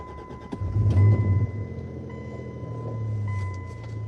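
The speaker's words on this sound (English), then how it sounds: "I gotta turn my truck on." A pickup truck engine cranks and catches near a cold lakeshore, swelling to a loud low rumble before settling into a steady close idle.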